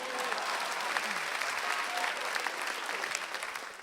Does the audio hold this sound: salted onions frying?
no